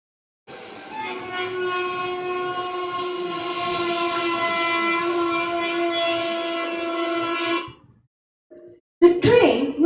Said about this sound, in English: The train was rushing down the tracks, its whistles echoing through the night.